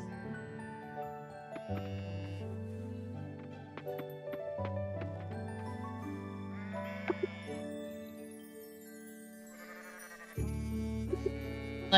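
Farm animals in the video game Coral Island, including a goat, give drawn-out bleats over a layered game music backdrop, with several overlapping calls across the scene and a sharper burst near the end.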